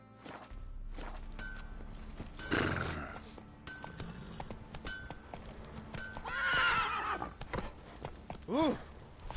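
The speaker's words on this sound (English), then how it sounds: "Roach has got himself tangled out with a horse." A horse in The Witcher video game neighs and whinnies several times over steady clip-clop hooves on ground, loud and close, with a thud partway through and no talk.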